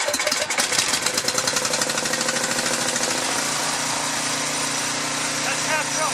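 A Craftsman snow blower engine runs steadily after a pull start, a loud, continuous mechanical drone with rapid ticking pulses at the start, with voices faint beneath it.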